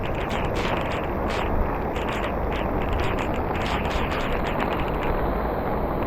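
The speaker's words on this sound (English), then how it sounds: "It's raining harder now." Dense, roaring hiss of heavy rain outdoors, loud and unbroken, close by and drowning out other sounds.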